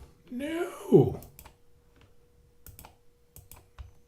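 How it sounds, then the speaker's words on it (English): Computer keyboard keys are tapped in scattered, uneven bursts of clicks. A voice is heard early on, and the sparse keystrokes continue quietly afterward. "I'm just hitting keyboard keys all over the place"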